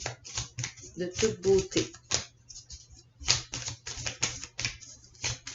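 Tarot cards are shuffled and drawn close up in a series of crisp, quick clicking snaps and riffles, with someone speaking briefly between them.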